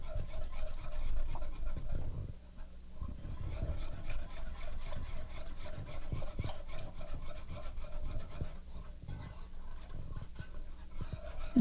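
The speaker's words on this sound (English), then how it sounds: "so I'm going to whisk it around with the flour and the butter" A whisk stirs milk into a flour and butter roux in a pan over medium heat, giving a continuous scraping, rubbing swish that is close and fairly quiet, with a short lull near the start.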